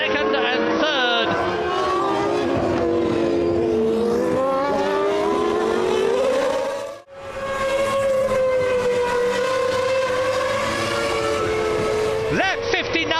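Formula One cars race at the 1999 French Grand Prix, loud high-pitched engine notes rising and falling as cars pass, with a brief dip midway and a commentator talking over the roar.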